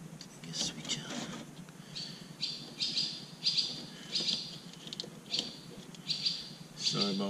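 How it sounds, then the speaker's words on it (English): Small birds chirp in repeated short bursts inside a garage, fairly close and steady throughout, with faint whispery talk in the background. "sorry about the birds, they like to be in the garage."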